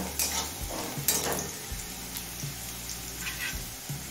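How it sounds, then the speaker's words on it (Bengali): Potatoes frying in a pan over a medium flame, a close, continuous low sizzle with occasional scrapes and stirring knocks. "আলুটা 3-4 মিনিট মিডিয়াম ফ্লেমে ভেজে নিয়েছি।"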